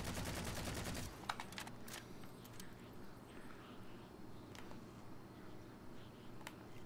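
Dense automatic assault rifle fire in the Halo 4 video game, a loud sustained burst for about a second, then fading into scattered distant shots and rumbling game ambience.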